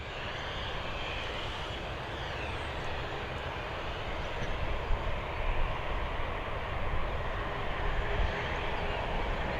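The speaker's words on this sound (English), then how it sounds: "Our next arrival, FR2702, coming in from Seville. It's a Boeing 737 operated by Ryanair." A Ryanair Boeing 737 arriving at Dublin Airport: a steady, broad jet engine roar held throughout at an even, fairly distant level, with no talk.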